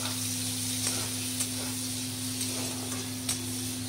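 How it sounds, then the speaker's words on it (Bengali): Onion frying in hot oil with a bay leaf and cumin seed tempering makes a steady close sizzle, broken by a few light clicks of stirring. "তেজপাতা জিরে ফোড়ন দিলাম, দিয়ে পেঁয়াজটা দিয়ে দিলাম।"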